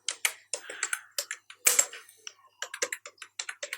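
Rapid typing on a computer keyboard entering text in CorelDraw 2020, with close, crisp keystrokes in quick uneven bursts, a brief heavier cluster midway, and no talking.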